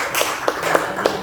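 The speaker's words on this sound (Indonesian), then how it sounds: "beri tepuk tangan dulu untuk kelompok 1" A few sparse, separate claps from a classroom group applauding a student team after its presentation, four or so distinct hand slaps spread unevenly over a second, with room noise underneath.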